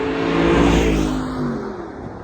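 An Audi R8 with R-Tronic transmission in sport mode, shifted manually, accelerates hard with a loud, close engine roar that climbs in pitch and then eases as the revs settle.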